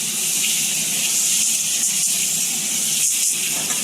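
Vegetables or fish sizzle hard in hot oil in a pan. The hiss is loud, bright and steady throughout, with a few faint scrapes or bubbles under it.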